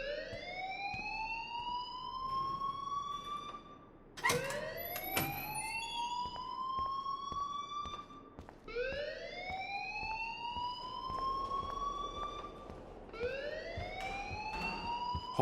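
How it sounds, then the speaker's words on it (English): Fire alarm in the video game Life is Strange, sounding as a loud electronic whoop that rises in pitch, repeated about four times in a steady cycle. "please turn off that alarm since that's your job"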